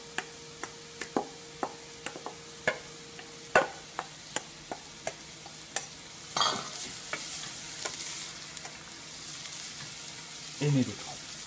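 Potatoes and beets frying in a pan, with a steady sizzle under a run of sharp stirring clicks and scrapes from a utensil against the pan, ending in a louder clatter.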